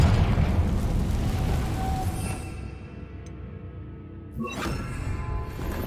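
A Confringo fire-blast spell cast in the Hogwarts Legacy video game, heard as a loud, dense booming burst that fades over a few seconds before a second sharp crackling impact near the end.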